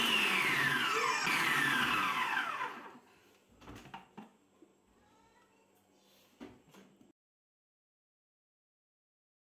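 A food processor whirs loudly for about three seconds as it grates beetroot, its motor pitch sliding while the vegetable is pushed through. After that come a few quieter knocks and clatters, then silence.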